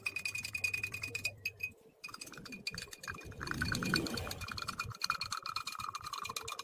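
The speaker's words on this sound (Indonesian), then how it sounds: "Lalu aduk hingga garam larut dengan sempurna." A spoon clinks and scrapes against a drinking glass while salt is stirred into water, giving faint, quick metallic ticks close up with short pauses between bursts.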